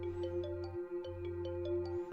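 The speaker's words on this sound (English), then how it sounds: "Discount iPhone ringtone." A cheap iPhone-style ringtone from a horror video game plays as a bright, repeating electronic melody over a steady low hum, moderately loud and alone, with no talk over it.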